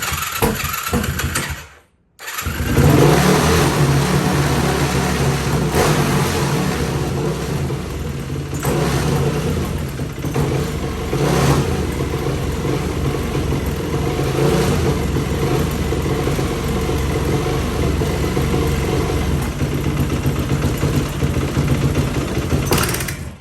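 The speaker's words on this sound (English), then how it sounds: "And it's spittering and sputtering a little bit. But at least it's running." A Yamaha YFZ450 ATV engine with no compression runs loud and close, idling unevenly with sputters and misfires, a brief drop near the start, then a steady rough rumble.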